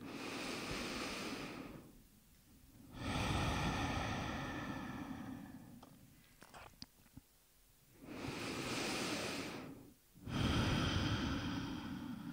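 Slow, deep yoga breathing comes close and alone, with long audible inhales and exhales in a calm rhythm, about three full breaths separated by quiet pauses and small soft clicks.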